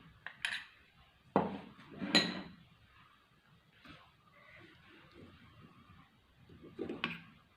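A spoon scoops finely ground rice flour from a container with a few sharp clinks and taps against the dish. Quiet gaps and faint scraping fall between them, all close and fairly soft.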